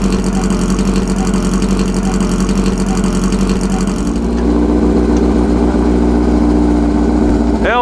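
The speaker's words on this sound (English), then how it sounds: "here is an Elva powered Porsche being brought out." A Porsche race car fitted with an Elva engine runs at a loud, steady rumble nearby, the engine tone shifting partway through amid outdoor crowd noise.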